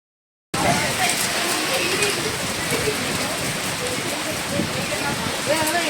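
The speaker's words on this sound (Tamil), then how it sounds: "கரெக்டாக எலெக்ஷன் அப்போயே மழை வந்துச்சு" Steady rain pours down in a village in Tamil Nadu with a dense, even hiss that starts abruptly and holds constant throughout, with no talking.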